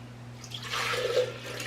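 Water is poured into a banana bread mixture in a kitchen, a short soft trickling splash that swells briefly and fades, heard alone.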